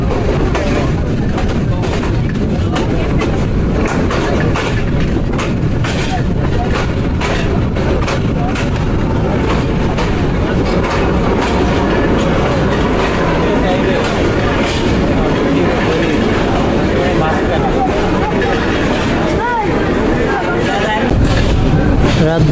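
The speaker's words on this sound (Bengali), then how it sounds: "পারাবত এক্সপ্রেস ভৈরববাজার জংশনে প্রবেশ করছে।" Parabat Express train rolling into Bhairab Bazar junction in Bangladesh, a steady loud rumble of wheels and carriages filling the whole stretch, with voices talking over the continuous rail noise.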